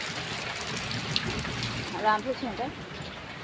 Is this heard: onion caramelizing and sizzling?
no